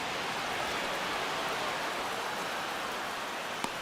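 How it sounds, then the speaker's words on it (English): Rain pours steadily over a ballpark in the baseball video game MLB The Show 25, a constant hiss of falling water with one faint tick near the end. "we're going into a rain delay, and I have a feeling this is going to be a long break"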